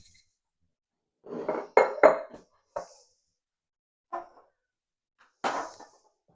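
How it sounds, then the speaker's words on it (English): Cherry mixture is spooned into a well-greased metal muffin tin, giving a handful of short, close metallic clinks and scrapes in separate bursts with quiet gaps between them. "So now I'm going to pop them into this very well greased muffin tin."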